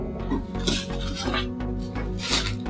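A CUSIMAX 1500W B101 single electric burner is slowly pulled out of its box, with continuous close scraping, rubbing and light metallic clunks.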